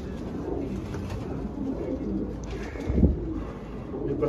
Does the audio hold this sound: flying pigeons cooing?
yes